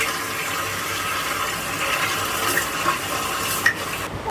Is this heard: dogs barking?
no